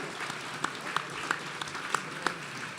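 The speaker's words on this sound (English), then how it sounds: "how about another round of applause" Gala audience applause for a band comes through thin and fairly faint, with a handful of separate claps standing out over a soft background murmur.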